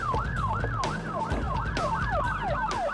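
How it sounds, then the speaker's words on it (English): A police car siren wails in a fast, repeating rising-and-falling sweep during a pursuit, loud and close over a steady low engine rumble, with no talking. "he probably isn't used to having a police car chasing him down"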